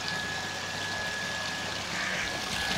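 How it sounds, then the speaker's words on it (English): Water gushes under pressure from a newly installed Kirloskar 0.5 hp pressure pump, a steady, even rush of flow with a faint tonal whine from the motor running beneath it, continuous and close throughout. "Now we can see the water flow force."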